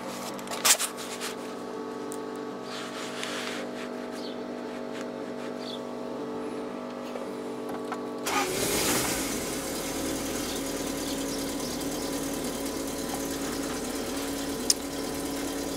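A turbocharged 1986 Toyota MR2 engine is started: a quiet hum and a few clicks, then the engine catches about halfway through and settles into a steady, close idle that runs to the end.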